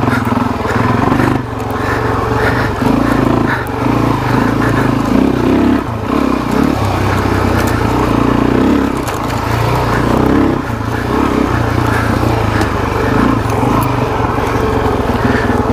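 Suzuki DRZ400SM motorcycle engine droning steadily while riding, a loud continuous close-up mechanical hum with small surges and rattles, tall gearing.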